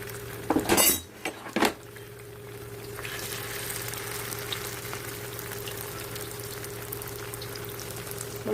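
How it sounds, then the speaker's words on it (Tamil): Fish fries in hot oil in a pan, giving a soft, steady sizzle and crackle. Near the start, a few sharp clinks and scrapes of utensils against the pan cut in, and no one speaks. "இப்போ நம்ம ஒரு மீனை போட்டு பொரிச்சு எடுத்துடலாம்"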